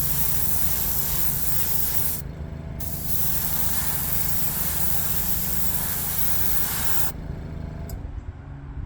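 A spray can or gun coats the insides of a black custom build in a steady, loud hissing burst, with two short pauses where the spray stops before it resumes.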